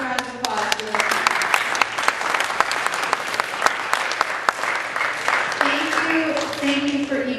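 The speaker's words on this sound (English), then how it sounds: "Can we please give a big round of applause for that?" A school audience of alumni and students claps loudly in a steady, dense round of applause, with a voice rising over it near the end.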